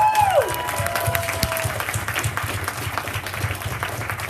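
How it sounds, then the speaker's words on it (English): An audience applauds a speaker at a business talk, lively clapping that follows a quick descending whoop and keeps going at a moderate level, with some crowd voices mixed in. "let's give Susan one more round of applause"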